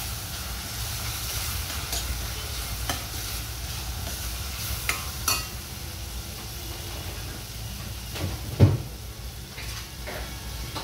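Chopped onion frying in a pan with turmeric and chili powder for mushroom butter masala, a steady sizzle with occasional scraping stirs and one sharper clatter near the end, no voices.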